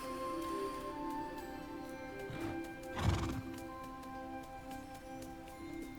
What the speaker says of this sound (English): Look at a little unicorn offspring.